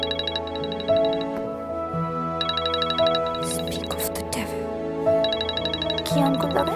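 A phone ringtone plays in repeated bursts of bright electronic tones, sounding over a steady musical bed with people talking nearby.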